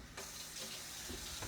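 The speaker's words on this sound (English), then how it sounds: "So I'm going to turn on the water" A kitchen or bathroom tap opens after a brief pause, and water gushes steadily into the sink, close and fairly loud for the rest of the moment.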